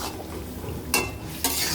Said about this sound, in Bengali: এবার 5 মিনিট এইভাবে নাড়াচাড়া দিয়ে আমি ঢাকা দিয়ে দিয়ে কষিয়ে নেব।